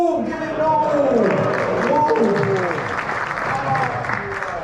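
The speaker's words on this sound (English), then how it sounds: "So round of applause, Norm!" Theatre audience at a West Ham legends night in the Adelphi Theatre bursts into loud, sustained applause, dense clapping filling the room with cheering voices and shouts rising over it throughout.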